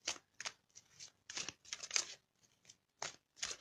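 Tarot cards being shuffled up close in quick separate bursts of riffling and flicking with short pauses between them, quiet and with no talk.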